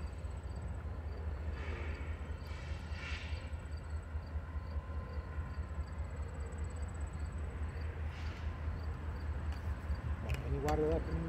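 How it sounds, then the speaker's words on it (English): A Norfolk Southern train rumbles in the distance as it approaches through a rail yard near Binghamton, a low steady drone with faint rail noise and occasional quiet sounds over it. "Train's coming."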